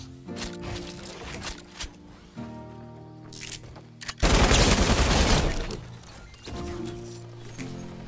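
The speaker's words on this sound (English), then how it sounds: "I shot him for a little bit more" Rapid bursts of Fortnite gunfire crackle loud and close in several clusters, with a dense sustained volley in the middle over game music.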